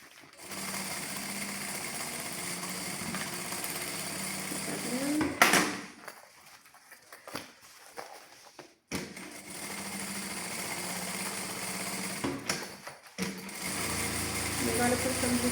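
An electric sewing machine runs a close edge seam on fabric in steady motorized bursts, stopping and restarting with quieter pauses between runs, nearby and moderately loud.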